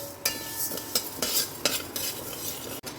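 Mung dal dry-roasting in a wok with no oil, a spoon or spatula repeatedly scraping and stirring the grains in uneven strokes, close and fairly loud with a faint rustle between strokes.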